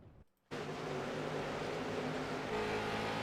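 A short-track scrambler race car engine drones steadily after a brief silence, the pitch holding fairly even as it coasts off the accelerator, heard from on board with no talk.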